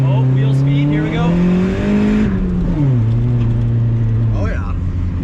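A turbocharged Honda Civic driven through snow pulls hard up through the gears, engine note climbing, dropping at each quick shift, then climbing again, heard close from inside the cabin while someone talks over it.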